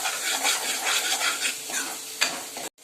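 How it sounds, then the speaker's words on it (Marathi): Fish frying in a pan, a steady loud sizzle with stirring and scraping as the pieces are flipped, a sharp clink of utensil on pan near the end before it cuts to silence. "चला आता मच्छी आपण पलटी करून घेऊया"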